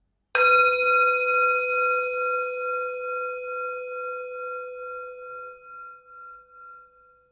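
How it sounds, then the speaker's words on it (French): A meditation bowl is struck once and rings with a clear, sustained tone that slowly fades away over several seconds, alone in a quiet setting. "Écoute le son du bol qui apparaît et qui disparaît petit à petit."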